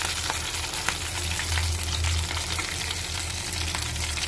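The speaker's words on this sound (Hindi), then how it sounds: "हम इसे फ्राई कर रहे हैं" Cheese balls deep-fry in hot oil with a continuous dense sizzle and crackle, steady and close throughout.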